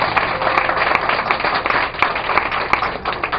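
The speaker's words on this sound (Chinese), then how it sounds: "我们拍手鼓励" A wedding ceremony audience claps together in a lively, sustained round of applause with sharp individual hand claps standing out. The clapping sounds close and fairly loud throughout.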